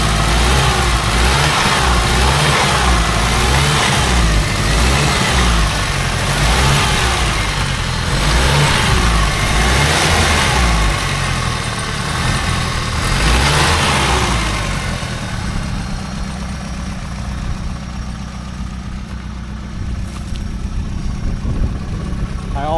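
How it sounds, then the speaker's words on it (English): A Subaru Brat fitted with a swapped-in WRX engine revs up several times from idle, the engine note rising and falling in close, loud pulses before settling back to a steady idle. "if I rev it up"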